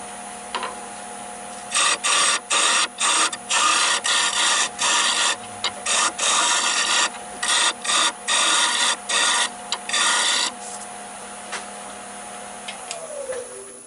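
A wooden hollow form on a woodturning lathe has its top section finished with a cutting tool, giving repeated rasping scrapes in short regular bursts over a steady motor hum, fairly close and with no talking.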